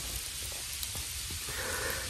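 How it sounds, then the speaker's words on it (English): Heavy sleet pours down in a steady, dense downpour, a continuous broadband hiss and sizzle of icy pellets with faint low rumble beneath, holding at an even level throughout. "We're having a tremendous downpour of sleet here now."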